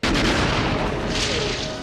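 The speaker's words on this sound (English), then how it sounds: "the actors were so close to the explosion" A film explosion in Tremors, set off close to the actors, hits with a sudden heavy boom and then a dense roaring rumble that fades slowly over nearly two seconds.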